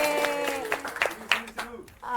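A class group in a primary school mathematics lesson performs a rhythmic spirit clap, with quick bursts of hand claps mixed with voices chanting and talking over them.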